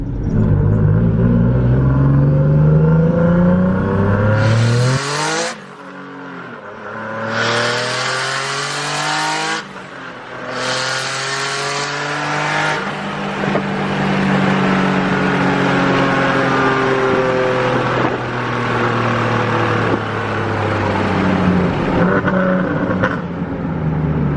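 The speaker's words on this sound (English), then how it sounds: "Wow, the car pulls way stronger now that we fixed the exhaust leak." Single-turbo Nissan 370Z accelerating hard after an exhaust leak repair, engine revving up through several gears with rising pitch sweeps, brief drops between shifts, and a loud, sustained roar close by.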